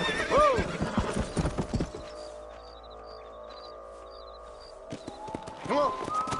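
Hoofbeats clip-clop with a horse's whinny in a Western video game set in the frontier, the galloping rhythm loud at the start and end with a quieter ambient stretch of faint game tones between.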